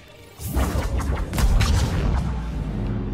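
Heavy shotgun blasts from the video game Mass Effect 3 boom loudly in a dense, continuous burst of combat noise, with the low rumble sustained from start to finish.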